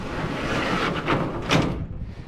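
A storage unit door forced open, a grinding, rattling scrape of metal that builds and peaks before cutting off, loud and close with no talk.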